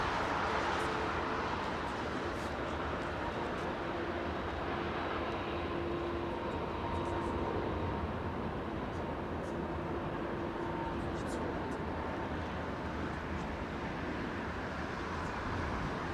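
A WestJet airliner arriving from Calgary at Heathrow Airport on Christmas Day: a long, even jet roar that holds at a constant level from a distance, blended with the broad hum of airport surroundings.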